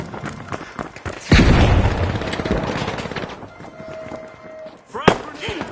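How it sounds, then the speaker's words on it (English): A frag grenade detonates in the arena shooter The Finals, a sudden loud boom with crackling debris rolling off over a couple of seconds, followed by a second sharp burst amid game effects. "Frag grenade."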